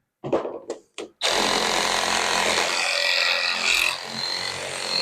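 A DeWalt PVC cutter works through 1.5-inch PEX pipe: a few short, sharp clicks, then a loud, sustained, gritty cutting noise held close for several seconds.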